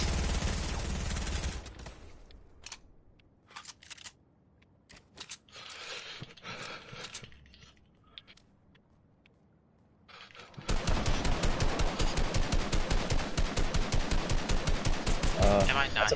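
Rapid automatic gunfire from blasters in a Star Wars video game, a few scattered bursts early on, then a dense, loud continuous volley of rhythmic shots for the last several seconds.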